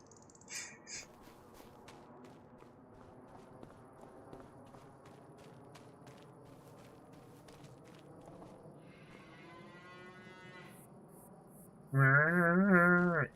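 Cows on a winter farm in a farming video game, with faint scattered calls and crow-like caws over a quiet backdrop, then a loud, close, drawn-out moo swelling near the end.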